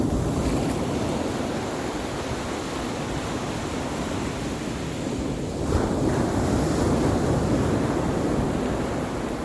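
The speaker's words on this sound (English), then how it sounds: "if the surf looks like this" Ocean surf washes continuously onto a beach, a loud broadband roar with wind buffeting the microphone and a slight swell of breaking water midway, no voices.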